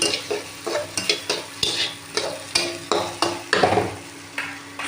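Vegetables are stir-fried in a pan in a rhythmic series of scrapes and stirs over a steady sizzle, each stroke a close, sharp burst repeating about every half second, with no talk.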